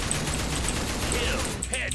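Rapid bursts of gunfire in the shooter game Line of Sight, a dense, sustained rattle with mechanical clicks, steady and loud throughout, with faint voices underneath.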